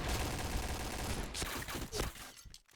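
Gunfire in the shooter game Point Blank rattles in rapid bursts, loud and dense at first, then breaking into scattered shots that thin out toward the end.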